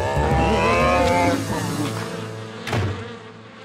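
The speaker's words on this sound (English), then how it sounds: "The bees are protecting their home." Cartoon bees swarming around a hive give a loud buzzing drone that persists across the whole stretch, layered with other cartoon sound effects and a brief swell near the end.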